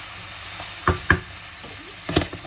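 Courgettes fry in a pan with a steady background sizzle, broken by a few sharp clicks and clatters of a utensil stirring close by.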